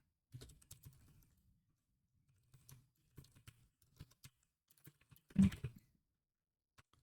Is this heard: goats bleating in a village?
no